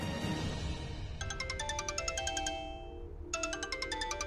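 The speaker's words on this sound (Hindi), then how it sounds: "मैम, आपका फोन।" A phone ringtone plays a bright, repeating electronic melody in two bursts with a short gap between, heard alone over a low background hum.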